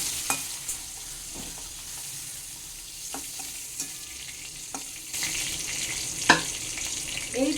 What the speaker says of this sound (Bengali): তেলে আমি এই আলুগুলোকে ভেজে নেব লাল করে